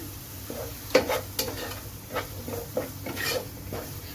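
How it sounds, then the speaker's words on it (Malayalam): Finely chopped onion with a pinch of salt sautéing in a pan, a soft sizzle under repeated scraping and stirring strokes, with a few sharper clinks of the utensil against the pan. "സെയിം പാനിലേക്ക് നമ്മൾ പൊടിപൊടിയായിട്ട് അരിഞ്ഞൊരു സവോളയുണ്ട് അത് നമുക്കിതിലേക്ക് ചേർത്ത് കൊടുത്ത് നമുക്ക് നന്നായിട്ടൊന്ന് വഴറ്റി കൊടുക്കണം"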